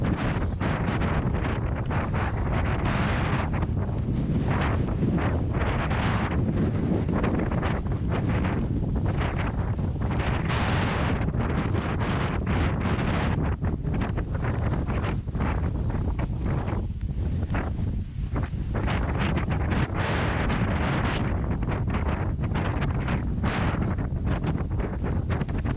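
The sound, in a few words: strong mountain wind gusts on Mount Washington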